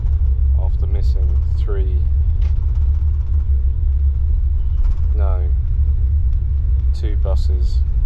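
Steady low rumble of a bus engine on a long overnight ride to Rajasthan, continuous and loud throughout, with voices and chatter heard intermittently over it.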